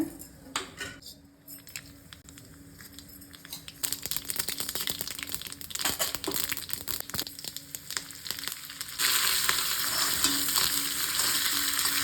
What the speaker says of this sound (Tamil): இந்த பால் கறிக்கு ஒரு தாளிப்பு போட்டுக்கலாம். இதுக்கு தேங்காய் எண்ணெய் தான் ரொம்ப நல்லா இருக்குங்க.